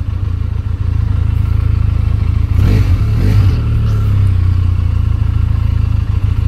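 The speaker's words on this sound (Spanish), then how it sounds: "Esos 500 centímetros cúbicos realmente se escuchan potentes." A Benelli Leoncino 500 motorcycle's 500 cc engine idles with a steady low thrum through the exhaust, then revs sharply twice in quick succession before settling back, loud and close.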